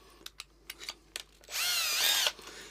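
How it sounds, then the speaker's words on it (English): A power drill fitted with a bit runs in one short, steady, high-pitched burst lasting under a second, after a few light handling clicks, during a DIY Telecaster guitar build. "then just drill a hole straight through the centre of this"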